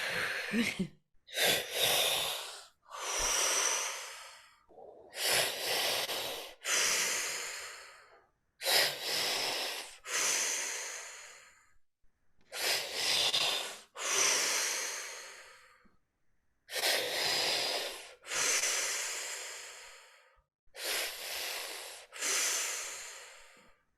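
Deep, forceful breaths come close to the mic during a guided breathing exercise before a breath hold. About eight rhythmic cycles of sharp inhales and long exhales are separated by brief pauses, with no talking.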